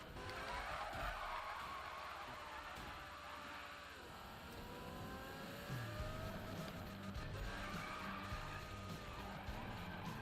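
A car drifts in the Need for Speed 2015 video game, tires skidding and squealing in long wavering screeches over a revving engine, loud and continuous with shifting pitch and no voices.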